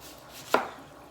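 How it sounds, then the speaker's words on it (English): A single sharp knife chop cuts through an onion on a board, one crisp close thud in an otherwise quiet moment. "cut my onion down like this"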